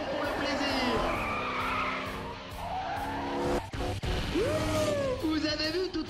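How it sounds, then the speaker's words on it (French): A Ford Mustang does a tire burnout in the racing game Need for Speed ProStreet: loud, continuous tire squeal and skidding over a roaring engine, with a rising squeal near the end. "elle nous fait même un petit burn, rien que pour le plaisir"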